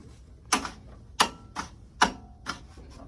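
A Nissan Z31 with an LS engine swap gives off sharp, distinct clicks, about six of them spaced roughly half a second apart, close and clear over a low background rumble.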